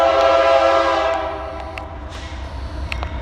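A BNSF southbound intermodal freight train rolls through Marion, Ohio, its horn blaring loud and close over the steady rumble of the cars, with short horn blasts cutting in again toward the end.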